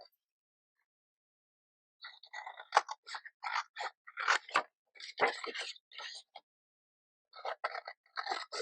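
Scissors snipping through paper card for a handmade junk journal ID card, a series of crisp close cuts in bursts after a short silence, with a brief pause near the end and no talking.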